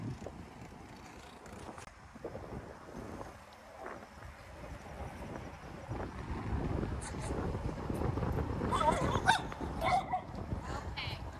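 Dogs bark in a neighborhood, mostly distant and mixed into wind-buffeted outdoor noise, with a few sharper yips growing a little louder toward the end; no talking.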